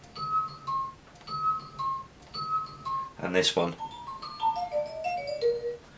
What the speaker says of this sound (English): I took like a real nice little glockenspiel sound and chopped it up